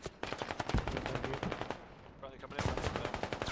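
Rapid gunfire in a war video game set in Afghanistan, a Tokarev pistol in use, loud dense bursts of shots with a brief lull in the middle, then firing picks up again.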